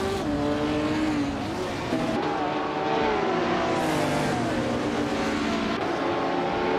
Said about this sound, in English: the race is kicking off at Central International Circuit